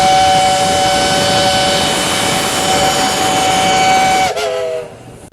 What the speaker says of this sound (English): And then when they blow the whistle,